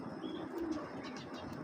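Soft, low cooing from a racing pigeon kept by a breeder, a faint continuous murmur with a few light chirps and wing rustles in a quiet setting.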